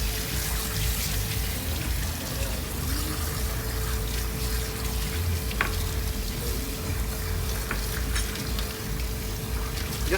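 Bowl being washed in hot water while making soya curd, a steady watery wash with continuous splashing and trickling, fairly close and uninterrupted, with no talking.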